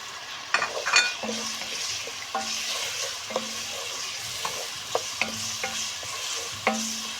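Minced meat and onion sizzle steadily in oil under repeated stirring, with a spatula scraping and tapping the pan at a regular pace, close and moderately loud.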